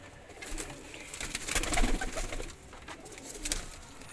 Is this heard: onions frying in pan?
no